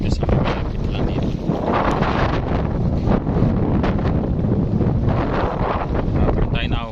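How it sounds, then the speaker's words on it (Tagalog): Strong wind at a fishing bay in Calamba buffets the microphone continuously with loud roaring gusts, steady throughout, with faint rustling underneath. "Malakas talaga yung hangin."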